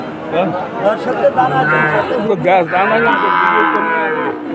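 Calves at a cattle market in Udaypur, Bagerhat, moo loudly and repeatedly up close, their drawn-out calls overlapping with a busy background of market chatter and people talking.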